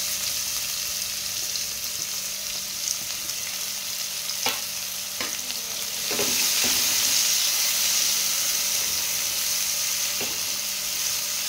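Onion frying in hot oil with mustard seeds and cumin, a steady close sizzle that swells louder midway as the onion hits the pan, with a few soft stirring clicks and no talking.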